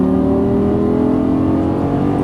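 A Lamborghini Gallardo LP550 on a track pulls hard under throttle, its engine a loud, steady, close droning roar with a sustained tone that holds throughout, no voices over it.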